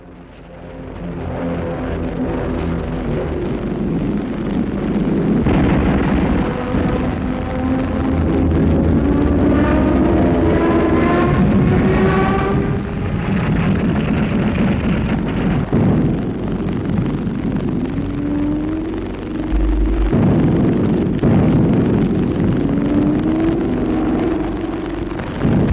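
Warplanes drone overhead amid an anti-aircraft barrage in an old war film's naval air battle, a dense continuous roar of engines with rising and falling tones and muffled bursts throughout.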